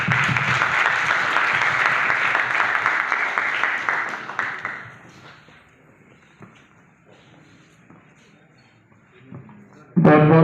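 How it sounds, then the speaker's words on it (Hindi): A crowd at a cow-protection awareness event at Jiwaji University, Gwalior, gives a loud, dense round of applause for several seconds, then it fades to scattered claps and quiet before a voice starts. "आप सभी लोग जोरदार तालियों से उनका मंच पर स्वागत करें"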